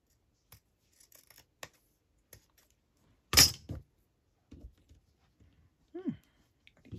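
Scissors trim fabric for a handmade tag in a few sparse snips, with one loud, close cut standing out amid quiet handling noises and a brief murmur of voice.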